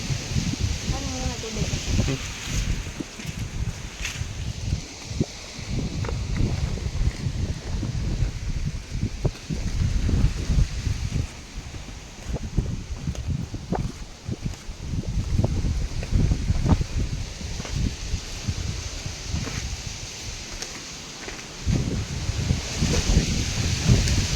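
Steady wind buffeting a microphone with rustling gusts, a continuous low roar throughout.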